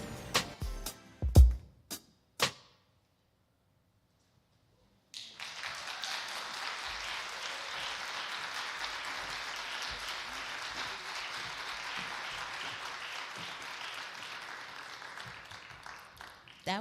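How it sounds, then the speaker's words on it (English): An audience applauds a performer at an event: a few sharp claps and knocks, a brief silence, then sustained, even clapping from many hands that holds steady to the end, with no speech over it. "Give another round of applause for Ife Michelle."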